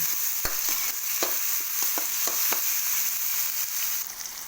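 Ginger and tomato sauté in a pan, a bright continuous sizzle punctuated by quick, rhythmic utensil taps and scrapes as it is stirred, close and loud, with no talking.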